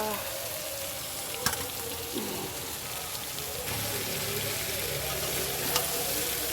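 Ghugni being stirred and mixed in a frying pan makes a continuous sizzle with scraping spoon strokes and a couple of sharp clicks against the pan.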